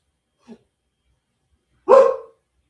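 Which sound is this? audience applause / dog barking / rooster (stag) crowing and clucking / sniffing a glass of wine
dog barking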